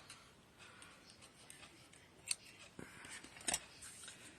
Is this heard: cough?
no